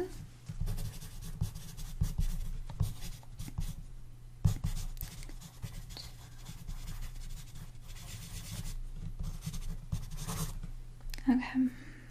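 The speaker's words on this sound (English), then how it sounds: "I'm going to write a little note on this one." A pen scratches out notes on paper in a quiet ASMR-style personal assistant roleplay, close soft strokes coming in short bursts with brief pauses, and no voices.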